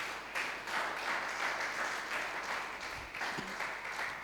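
A church congregation claps together in sustained, even applause that washes through the room at a moderate, slightly distant level, dipping briefly near the end before swelling again.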